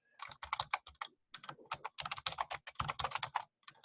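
Rapid computer keyboard typing during a digital forensics lab session, close-up clatter of keys in quick irregular bursts with brief pauses, fairly quiet overall and with no talking.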